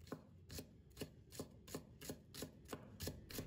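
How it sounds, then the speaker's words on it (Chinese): Knife chopping green onion whites into mince on a board, a steady run of about ten crisp, evenly spaced close strokes, fairly quiet, with no talk. "把葱白切成末"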